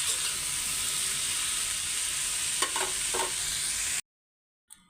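Potatoes with salt and turmeric frying in a pan, giving a loud, steady bright sizzle with a few stirring scrapes near the end before it cuts to silence.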